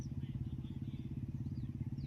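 Bullet motorcycles ride along with a wedding procession that travels by tractor, their engines a steady, close, low thumping rumble that runs through the whole clip with no talk.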